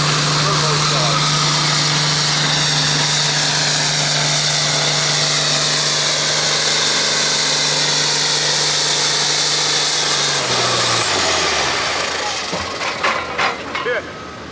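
A turbocharged 361 engine in a 1965 1206 farm tractor pulls in the field stock class at a 12,000 lb, 10 mph farm tractor pull: a loud, steady roar and high turbo whine sustained for about ten seconds, then dropping away as the engine winds down.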